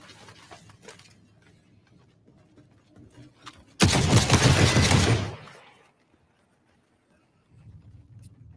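A burst of double-barrel shotgun fire in a horror survival video game, one loud broadband blast lasting over a second, then a short quiet stretch and low rumbling ambience.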